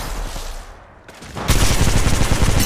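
Gunfire rings out in the mobile shooter Apex Legends Mobile: a quieter stretch, then loud, sustained rapid-fire bursts blasting continuously to the end.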